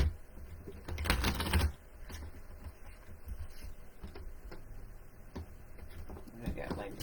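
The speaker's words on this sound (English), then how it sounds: "One more good shuffle" Tarot cards are shuffled close by in short riffling bursts, one louder flurry early on, followed by softer intermittent card clicks and rustles.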